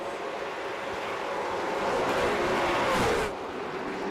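Race cars on a short oval track circle in a steady engine roar that swells as one passes close by, then eases back to a broad background drone.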